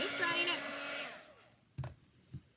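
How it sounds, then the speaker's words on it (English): A handheld heat tool blows loudly as it dries metallic paint on a wooden cut-out, its whine falling away and cutting off after about a second and a half, followed by two short thumps of the tool being set down. "So I'm just drying"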